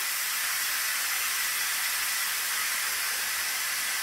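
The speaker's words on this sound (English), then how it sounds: "So we have to wait until all the steam comes out" A Philips electric pressure cooker vents steam in a continuous, loud, even hiss that holds steady throughout with no voices.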